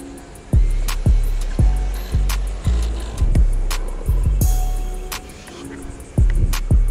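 An Associated DR10 RC drag car on its first speed run along a road, passing in a series of sharp, loud bursts and whooshes with a faint motor whine between them.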